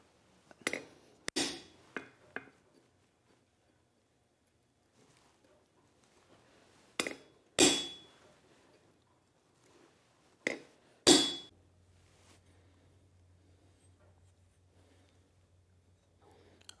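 A hammer strikes a chisel against a forged steel cocktail stirring spoon in a quiet workshop, giving sharp metallic clinks in small clusters separated by silence, with a low hum near the end.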